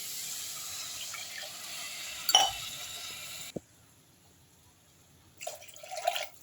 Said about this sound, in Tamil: இப்போ மூணு கப்பு தண்ணி நம்ம வந்து ஒரு ரெண்டே முக்கால் ஊற்றிக்கலாம்